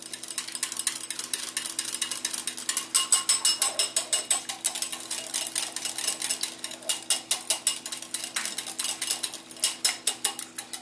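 A utensil scrapes and clicks rapidly against a bowl while maple balsamic vinegar is stirred into a burger topping, a close run of bright, rhythmic ticking strokes that comes in bursts with brief pauses, with no one talking.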